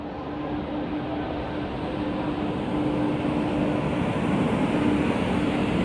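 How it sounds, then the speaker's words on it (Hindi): The Ahmedabad Puri Express rolls into platform 3 at an Indian railway station, a steady loud rumbling roar with a faint hum, growing slightly louder as it comes in. "प्लेटफॉर्म नंबर 3 पे अराइवल हो रहा है अहमदाबाद पुरी एक्सप्रेस का।"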